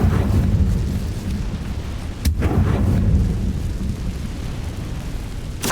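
Incendio fire spell cast in the video game Hogwarts Legacy, a loud rumbling burst of fiery roar with a sharp crack near the middle, continuous booming texture without speech.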